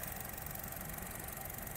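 A 2013 Honda Jazz RS GE8 automatic sits idling, its engine giving a faint, even hum with a light mechanical rattle, steady and unaccompanied by talk.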